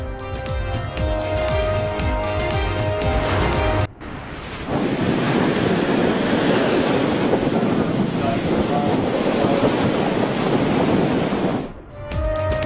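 Hurricane Dorian's waves and wind batter the Bahamas. After a few seconds of music, a loud, continuous roar of surf and gusting wind fills the rest, buffeting the microphone, then cuts off briefly near the end.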